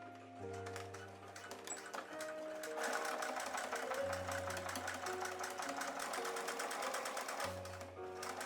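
Sewing machine stitching the reinforced seams of a corset made from a 1900s pattern, a steady rapid mechanical whir and clatter with a low motor hum, close and running continuously, alone without talk.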